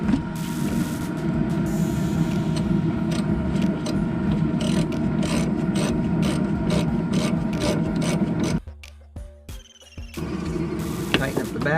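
A ratchet tightens the bottom bolt of a Nissan sway bar link, giving a long run of close, rapid clicking and rasping strokes, then a short pause and a few more clicks.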